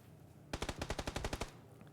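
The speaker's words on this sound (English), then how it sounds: "Shots fired from a distance." Distant automatic gunfire in PUBG, one quick burst of about ten evenly spaced shots lasting roughly a second, faint and far off, with no talk over it.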